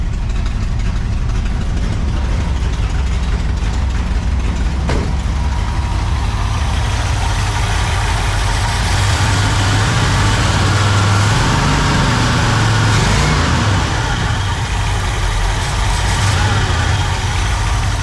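A 1964 Pontiac Catalina V8, a barn find running after more than 30 years, idles with a steady, rough low rumble that stays choppy and never smooths out, loud and close, with no talking.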